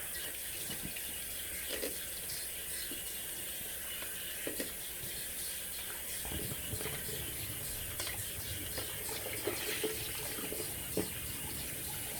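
Water runs steadily from a bathroom tap into a sink during face washing, a constant close hissing flow with faint splashes and small knocks throughout and no talk.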